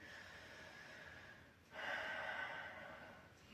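Ujjayi yoga breathing held in downward dog, a soft, steady breath that swells into a louder, rasping airy rush partway through, close and faint, with no talk.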